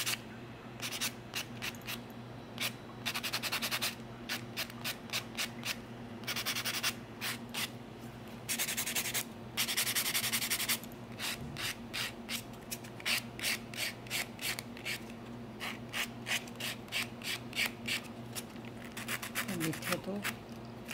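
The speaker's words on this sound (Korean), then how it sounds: "그래서 두께나 뭐 파일링보다는 샌딩 작업 해줄게요. 표면 정리를 해주겠습니다." Rhythmic rasping of acrylic nail extensions being sanded smooth during a marbled acrylic nail set, in repeated short strokes close by, with a steady low hum underneath.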